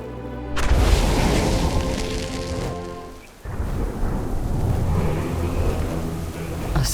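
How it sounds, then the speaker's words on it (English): Stormy thunder in World of Warcraft's Waking Shores area, a heavy booming rumble with rain wash, loud and rolling throughout, fading briefly before swelling again. "A storm."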